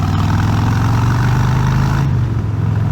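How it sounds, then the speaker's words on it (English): A motorcycle exhaust rumbles loud and close with a steady, throbbing low growl, briefly swelling as the throttle is blipped. "Just had to make sure that exhaust was still working there"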